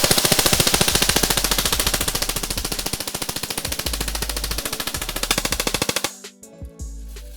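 A Jing Gong T3 MC51 airsoft gun fires full-auto to empty its magazine: a loud, rapid, evenly spaced rattle of shots runs for about six seconds, then stops abruptly, leaving a few faint clicks.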